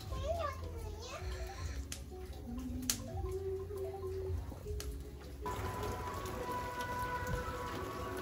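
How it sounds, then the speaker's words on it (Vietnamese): Steady rain falls in a highland area in the days before Tet, a constant patter that runs throughout, with children's voices and speech mixed in and a faint rumble of thunder. "Mấy ngày cận Tết mà trời vẫn mưa như thế này."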